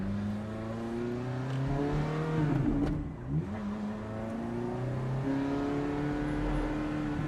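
A 2008 Ferrari F430 Spider convertible with a six-speed manual gearbox drives along, its engine droning steadily from inside the car, dipping briefly for a gear change midway before pulling again, with no talk.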